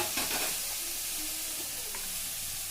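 Tomatoes and onions fry in a pan for a homemade dish, giving a steady close sizzle with scraping stirring strokes throughout, and no voices.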